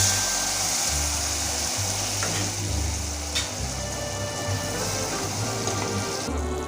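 Mustard paste drops into hot oil with deep-fried onion and garlic, and a dense, loud sizzle crackles and spits continuously in the pan, with no voices.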